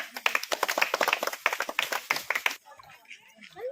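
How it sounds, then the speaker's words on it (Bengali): A group of children clap their hands hard during a village balloon game, with quick sharp claps tangled with loud voices that then fade away. "হাততালি জোর করে"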